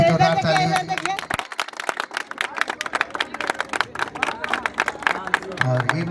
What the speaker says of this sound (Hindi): इनके लिए भी जोरदार ताली।